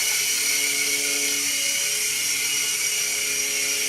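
A small XVB beginner RC helicopter flies indoors, its rotor and motor giving a steady, close, high-pitched whine that stays loud throughout, with no talking.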